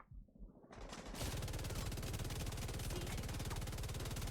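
Rapid automatic gunfire from the video game The Division 2 starts about a second in and then runs as a continuous, fast, evenly spaced stream of shots at a loud, steady level.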